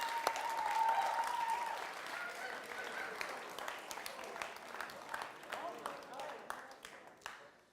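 Audience applause after a TEDx keynote talk, a dense wash of clapping that thins into scattered individual claps as it tapers off.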